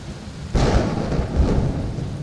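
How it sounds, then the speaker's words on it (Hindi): Heavy downpour with a sudden thunderclap that breaks in and rumbles on under the steady roar of rain, close and loud, with no voices. "देखते ही देखते मूसलाधार बारिश होने लगी"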